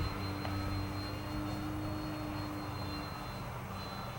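An FMS P-47 Thunderbolt radio-controlled model airplane flies overhead with a steady, continuous motor drone at moderate distance, holding an even pitch throughout with no talk.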